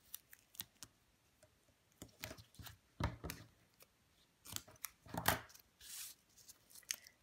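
Scissors cutting foam tape from a roll at a craft table, a series of quiet, crisp snips and crunchy cuts in irregular clusters, close up with no talking.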